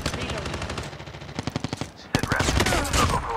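Minigun fire in a battle royale video game, heard as loud sustained rapid bursts of shots with a brief pause near the middle, close and dense, with faint speech underneath.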